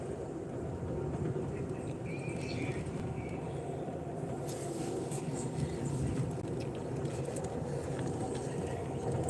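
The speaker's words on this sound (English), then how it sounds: "we are on an Amtrak train on a Chicago to Seattle bound trip" Inside an Amtrak passenger train heading north from Milwaukee toward Minnesota on a Chicago-to-Seattle trip, a steady low rumble and wheel noise fill the cabin throughout, with faint scattered higher rattles over it.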